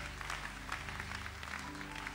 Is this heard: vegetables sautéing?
no